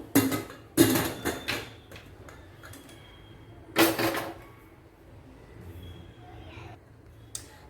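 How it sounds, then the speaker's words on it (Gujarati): A pressure cooker lid being shut and the cooker set on a gas stove, several sharp metallic clanks and knocks in quick succession, another loud clank a few seconds later, then quieter kitchen handling. "હવે કુકર બંધ કરી અને તેને બફાવા માટે મૂકી દઈશું।"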